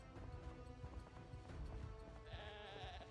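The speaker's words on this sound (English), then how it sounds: "I hear sheep." Sheep bleat in the rural wilderness of the zombie survival game Project Zomboid, a few wavering calls at moderate distance over low ambient rumble.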